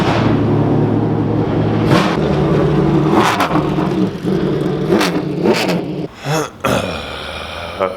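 Engine of a C8 Corvette at a daytime car meet, a loud, close mid-pitched drone swelling through several sharp rev bursts, with other cars idling and accelerating around it.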